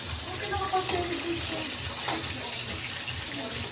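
Chicken sizzling and frying in a pan, with a steady crackle and hiss close by under a patter of rain and faint background voices.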